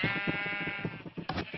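Sheep on a video game farm bleat in a steady, buzzy, nasal drone, followed near the end by two sharper, brighter bleats, all at moderate volume and fairly close.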